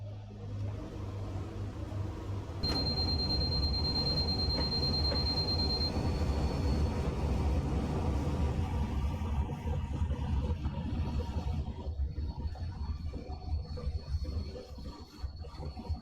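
Riding aboard a shortened APT tilting train with two power cars, a loud steady rumble of wheels on rails fills the cabin, joined early on by a thin high whine that fades, then the roar gradually eases toward the end.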